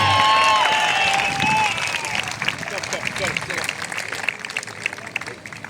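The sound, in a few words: audience applause and cheering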